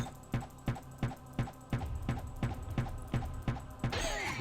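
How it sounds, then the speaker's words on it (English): Rapid mouse clicking during a Diablo 1 game session, a steady run of about a dozen sharp, close clicks in quick rhythm, with a brief rustling burst at the end. "You may even be able to hear how rapidly I'm clicking"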